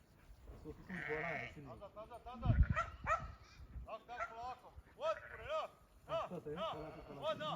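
A working farm dog in Europe barks while herding goats and sheep, short sharp barks mixed with nearby bleating animals and ongoing talk.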